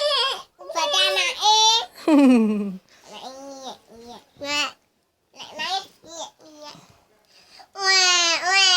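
A voice imitates a baby's wail in several rising, drawn-out cries with short pauses, close and fairly loud.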